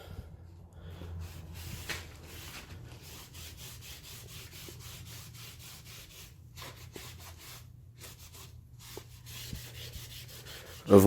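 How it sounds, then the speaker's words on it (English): A cloth rubs brown wax straight across a chalk-painted mirror frame, giving soft, steady scrubbing strokes in a repeated back-and-forth rhythm, close and fairly quiet, with no talking. "I'm just rubbing straight across."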